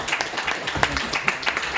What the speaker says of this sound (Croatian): Aplauz, naravno